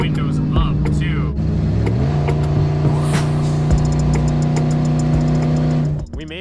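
Loud, raspy exhaust drone from a truck running without its catalytic converter, heard from inside the cab with windows up at highway speed; a steady, heavy engine tone that rises slightly in pitch, holds, then drops away near the end.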